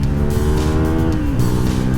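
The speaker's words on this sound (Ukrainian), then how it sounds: "Ой, моторчик хороший, крутиться, його достатньо, він не обривається дуже рано." A CFMOTO 300NK motorcycle engine revs loudly and close up, its pitch climbing steadily as it accelerates over a couple of seconds.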